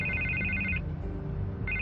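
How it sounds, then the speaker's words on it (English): A telephone rings in the Batman: The Telltale Series video game, with a bright electronic ring tone that sounds, stops and starts again over a low, steady musical background. "I can't get the phone to stop ringing."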